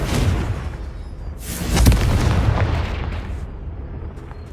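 A Confringo blasting spell in Hogwarts Legacy detonates as a loud, close, booming explosion that swells and rumbles before fading out, with no talk.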